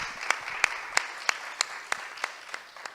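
Sparse applause at a public panel event honouring Carolina Maria de Jesus, heard as a series of separate, fairly faint claps spaced about a third of a second apart, like a few people clapping slowly and steadily.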